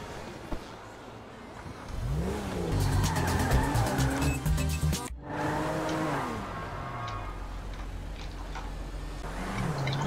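A car in the video game GTA 5 revs and accelerates, then its tires squeal in a long skid and it roars off again, all loud and close with no talking.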